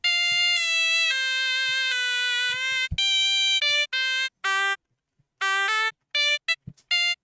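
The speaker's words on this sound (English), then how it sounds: "there's this instrument called suona" A sampled suona from a virtual orchestral library plays sharp, bright, reedy sustained notes, first a long held line, then a run of short staccato bursts separated by silences, loud and alone with no talking.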